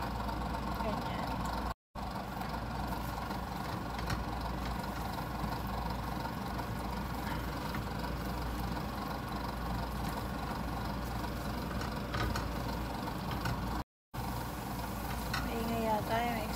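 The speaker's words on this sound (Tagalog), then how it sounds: "Maingay yata yung exhaust pa natin guys." A noisy kitchen exhaust fan drones steadily while egg chow mein cooks, a continuous loud rumbling hum with talking over it.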